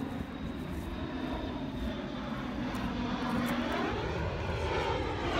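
Steady drone of a propeller airplane passing overhead, loud and continuous with a slowly shifting engine pitch throughout.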